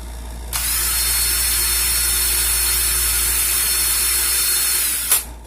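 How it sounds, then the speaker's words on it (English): A power drill spinning in reverse whirs steadily for about four seconds at close range, twisting a Clapton wire coil, then stops abruptly with a brief clunk. "I'm going to put my drill in reverse"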